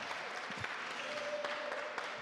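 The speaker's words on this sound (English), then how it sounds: "give them a round of applause" Faint applause from a church congregation at a Sunday service, a soft, even spread of clapping heard at a distance and sustained throughout.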